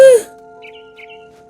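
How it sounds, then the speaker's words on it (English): A barn swallow in the video game What Remains of Edith Finch gives a loud chirp, followed by a few faint high tweets over a steady game music drone. "Then I heard chirping outside my window. It was a barn swallow going back to her nest."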